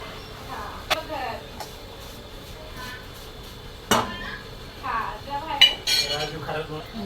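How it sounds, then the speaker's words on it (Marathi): Vermicelli being mixed in a pan for a sweet kheer, with intermittent clinks and scrapes of a utensil against metal, a few sharper knocks, and someone talking over the stirring. "आता मी त्या शेवया पण टाकून घेतलेल्या आणि छान असं मिक्स करून घेणार आहे"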